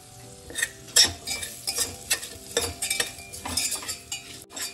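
Ivy gourd and spices sautéed in a pan with asafoetida for tondli rice, a spoon stirring and scraping in repeated strokes against a soft sizzle, close and steady with no talking.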